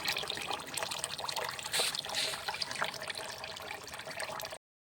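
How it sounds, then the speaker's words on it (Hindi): Water trickles steadily from a government-scheme village tap in rural Chhattisgarh, a continuous close splashing dribble that runs unbroken for several seconds before cutting off. "देखिए सरकारी नल जल योजना का पानी।"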